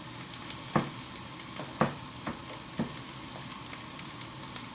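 Vegan shrimp slices dropped into a noodle stir fry sizzle steadily in the pan, with a few sharp clinks of a utensil against the pan spaced through the frying.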